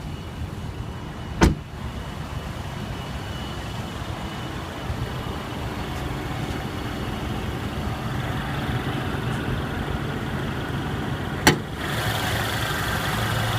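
A 2015 Mercedes-Benz GLA 250 4Matic with a 2-liter turbocharged four-cylinder engine idles steadily with a low, even hum, broken by two sharp clicks or thuds, likely the hood being handled.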